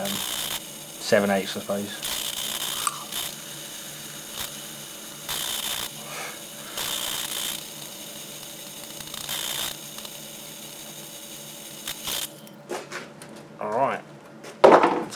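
A drill bores holes through about 20mm of material while a homemade dump truck's steering and seat are being built, in several separate whirring bursts with pauses between them and a brief spoken remark.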